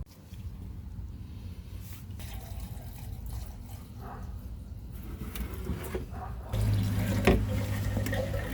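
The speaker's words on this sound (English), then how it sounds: "make the raw water pull the antifreeze from there, and it's going to spit out over here" Antifreeze splashes and spurts steadily out of an outboard motor being winterized, against a low running engine hum, growing louder and heavier toward the end.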